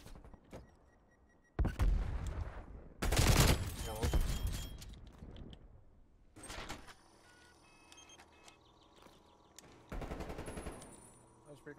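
Bursts of automatic gunfire and single shots in a Call of Duty Black Ops Cold War match: loud close rattling volleys that come and go in clusters over quieter in-game ambience, with people talking at times.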